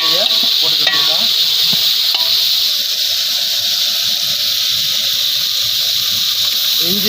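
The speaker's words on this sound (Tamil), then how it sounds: "இஞ்சி பூண்டு பேஸ்ட்டு, நல்லா வெங்காயம் துவந்ததை வெட்டி வச்ச தக்காளியை போட்டுக்கிட்டுருக்கோம்" Ginger garlic paste, browned onions and chopped tomatoes fry in a large pot for mutton biryani, making a loud continuous hissing sizzle with stirring scrapes throughout, close up.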